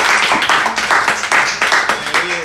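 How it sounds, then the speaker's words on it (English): A church congregation claps and applauds in a series of rhythmic bursts, loud and close, with voices calling out over the clapping. "Let's give it a round of applause,"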